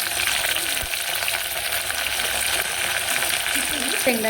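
Cumin seeds sizzle and fry in hot oil in a pot for a quick khichdi, a steady close crackling hiss running throughout, with a brief stirring clink near the end.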